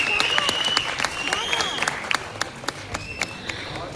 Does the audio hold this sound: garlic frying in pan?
no